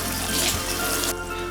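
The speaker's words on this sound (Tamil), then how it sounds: "மட்டன் வேகிற அளவுக்கு கொஞ்சம் தண்ணி ஊற்றிக்கோங்க." Water is poured into a pot of mutton for Kashmiri rogan josh, a loud, close gushing stream that runs steadily and then cuts off, with no talking.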